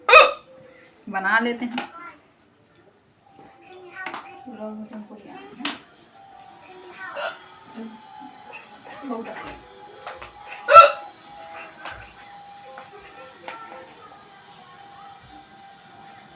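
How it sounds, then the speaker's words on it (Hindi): Sharp hiccups from a person making a hiccup vlog: several bursts at the start and a loud one near the end, close and clear, with spoken talk between them and a faint steady hum in the background. "तो हिचकी तो खासकर आप लोगों के लिए ही हम बनाते हैं।"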